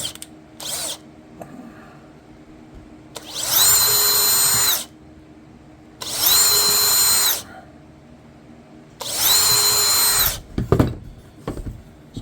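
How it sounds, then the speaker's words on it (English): A power drill bores angled string holes through wood for a washboard guitar, whining in three separate loud bursts of a second or more each, with quiet pauses and small handling clicks between them. "So when I drill these holes, it's going to come out the top."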